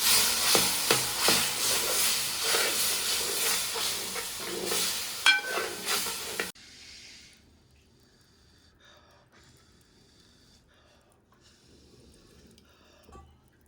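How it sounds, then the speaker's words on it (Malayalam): Loud sizzling and scraping of a spoon stirring bone curry in a hot pan for several seconds, then it drops to a faint simmer with occasional light clinks. "ഇനി ഇത് നല്ലപോലെ ഇളക്കി കൊടുക്കുക."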